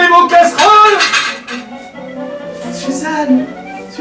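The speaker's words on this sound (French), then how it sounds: "Vous ne pouvez pas faire plus de bruit, vous, avec vos casseroles." Pots, pans and cutlery clatter loudly in close, irregular bursts of metallic clinks and bangs, with a voice speaking at moments in the background.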